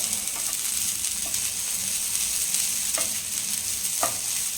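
Grated coconut stir-roasting in a pan while greens wait to be added, giving a steady close sizzle and frying crackle with occasional light scrapes of a spatula, no voices.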